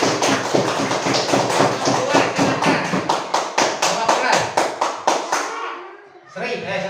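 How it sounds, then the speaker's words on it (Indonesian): Classroom applause breaks out for the first group of pupils, a dense run of hand claps with rhythmic thumps and taps that carries on for several seconds before thinning out, with a little chatter near the end. "Ya, tepuk tangan untuk kelompok pertama."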